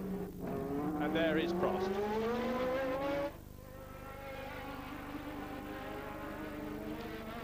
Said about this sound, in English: state-of-the-art racing car. Coming towards us